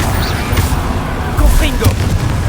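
A Confringo fire spell explodes in the game Hogwarts Legacy as short, heavy booms under game effects, loud and close, with a second burst partway through.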